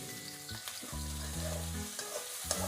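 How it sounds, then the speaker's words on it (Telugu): Onions frying in oil in a pan for a chicken curry, a steady sizzle with a few stirring clatters, alone with no talk. "ఆయిల్ వేసుకుంది మనం ముందుగా కర్రీకి కావాల్సిన ఉల్లిపాయలు వేసుకుందాం."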